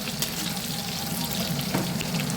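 Chivda ingredients such as garlic fry crisp in hot oil with a steady, dense sizzle and bubbling hiss, close and continuous, with no talk.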